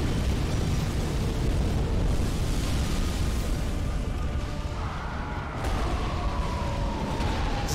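A creature in a video game breathes fire, a continuous loud roaring, rushing blast that fills the whole clip, with a rising tonal sweep near the end.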